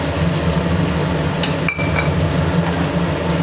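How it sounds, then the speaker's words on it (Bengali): Ridge gourd with potatoes and rice sizzles in a pan as it is stirred, a steady close frying hiss with occasional scrapes and a brief clink of utensil against the pan. "ঝিঙাটা দিয়ে এবার নাড়তে থাকবো।"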